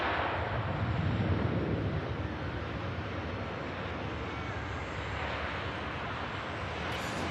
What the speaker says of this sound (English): Gulf Air Dreamliner out to Bahrain.